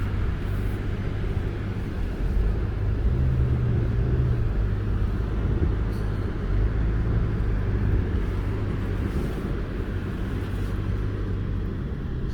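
A 2022 Toyota RAV4 Hybrid crawls over sand dunes at Oceano Beach in second gear, its steady low engine drone and tire rumble continuous and fairly close, with no voices.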